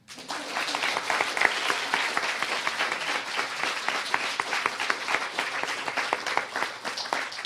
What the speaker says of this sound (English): I think we should have a special round of applause for Dr. Greg Bole as Charles Darwin.